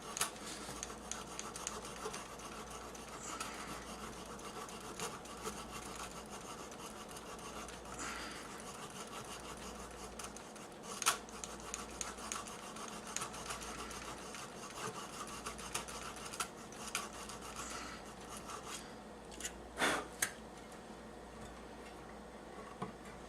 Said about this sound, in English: you'll be able to feel too when a file gets dirty and stops cutting